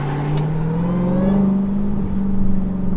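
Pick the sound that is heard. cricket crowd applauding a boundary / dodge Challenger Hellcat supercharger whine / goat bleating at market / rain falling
dodge Challenger Hellcat supercharger whine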